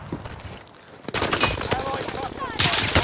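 Gunfire in a squad-based video game: bursts of rapid shots crackle in quick succession, sharp and fairly close, with louder volleys toward the end.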